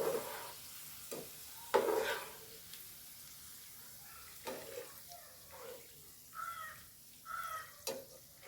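Onions browning in hot oil for fried chicken biryani give a soft, quiet sizzle, broken now and then by the clink and scrape of a stirring spoon in the pan.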